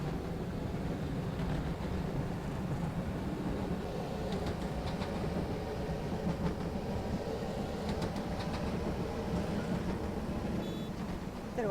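A tram runs on rails in the OMSI 2 game, going down a hill: a steady, continuous rolling rumble with faint, irregular metallic clicks throughout.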